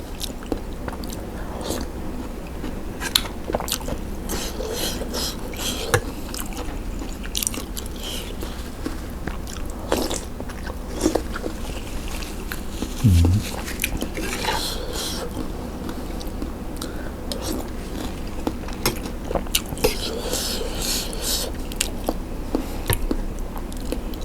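Someone chews and bites into a vegetarian Thai rice noodle soup with chewy noodles, producing close, continuous wet mastication sounds with small crunches, steady throughout with no talking.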